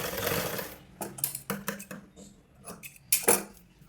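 A sewing machine stitching blouse fabric with a quarter-inch fold, running in short bursts of rapid mechanical clatter separated by pauses, close and fairly loud.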